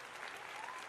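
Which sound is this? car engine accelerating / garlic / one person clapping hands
one person clapping hands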